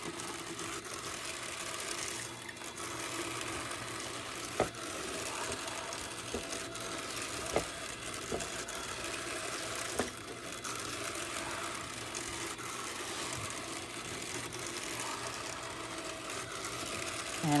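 A drum carder runs steadily while carding Debouillet wool locks, giving a continuous mechanical whir and rumble with faint repeated ticks and occasional soft clicks, at moderate distance and with no talking.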